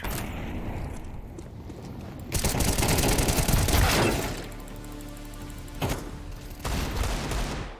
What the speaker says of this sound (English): Deploying flashbang. Grenade out now. Incendiary out.